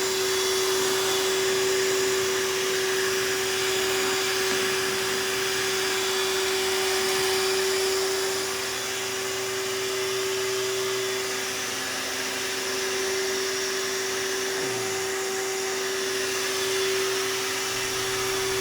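A vacuum cleaner runs continuously on carpet in a home, a loud, steady motor whine with a high pitched tone and rushing airflow, its pitch dipping briefly near the end.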